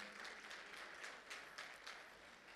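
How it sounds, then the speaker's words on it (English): Faint, distant applause from party guests at a celebration, a brief steady patter of clapping for a couple that lasts a couple of seconds. "Can we have a huge round of applause for both of them"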